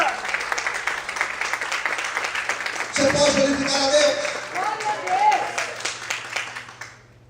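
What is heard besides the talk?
church congregation applauding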